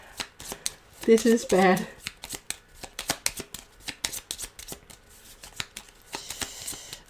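Playing cards are shuffled by hand during an Aeon's End War Eternal board game session, with quick riffling bursts and card clatter beneath ongoing casual talk.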